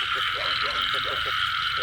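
Frogs croak in a repeated pulsing rhythm, close and fairly loud, over a dense steady chorus of insects or distant frogs on a rainy-season night.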